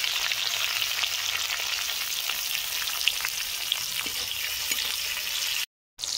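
Tomato and capsicum sizzle steadily in hot mustard oil in a wok, a dense, even crackle of frying that holds for several seconds before a brief cut to silence, then resumes.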